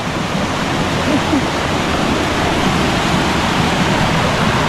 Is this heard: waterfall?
yes